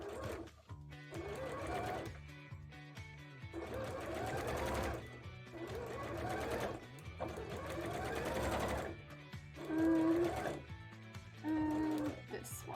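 Close sewing machine stitching a wide seam on a bra in repeated runs of steady motor whirring with short pauses between them, while a person talks over it.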